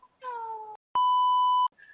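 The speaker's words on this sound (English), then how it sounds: "Beep, beep, beep, beep." A loud, steady censor beep tone sounds once for under a second, preceded by a brief groan-like vocal sound and followed by a faint squeak.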